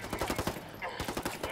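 Rapid bursts of video-game gunfire from a multiplayer shooter match in a mountain village, steady rhythmic shots packed close together and fairly loud, with a brief lull midway before the firing resumes.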